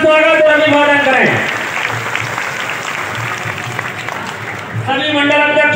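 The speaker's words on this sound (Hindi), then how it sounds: "जोरदार तालियों से स्वागत और अभिवादन करें" Loud applause from a crowd at a rural wedding gathering welcoming a local MLA, bursting in after amplified speech and filling the middle of the clip before the announcer's voice returns.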